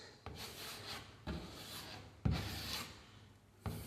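A putty knife spreads a little sheetrock compound over gouges in a wall stripped of wallpaper, making soft scraping, rubbing strokes. Four or five close, quiet passes come in a steady rhythm with no voices.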